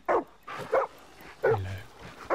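A dog in the woods barks in four short, sharp bursts spaced about half a second apart, fairly close and clear, with one bark trailing into a lower growly tail.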